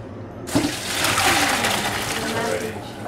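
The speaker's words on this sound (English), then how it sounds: "you just strain it" Cooked pasta strained in a home kitchen while preparing French mac and cheese: a sudden rush of water pours and drains steadily for a few seconds, close and fairly loud.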